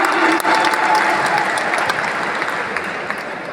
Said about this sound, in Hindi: एक बार जोरदार तालियां, जोरदार तालियां